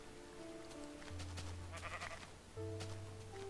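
Sheep in the game Minecraft bleat in several overlapping wavering calls, fairly close and clear, with steady low game hum beneath and no talking.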